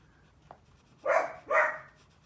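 A pet dog lying on the floor gives two short, close barks in quick succession after a faint click, in an otherwise quiet room.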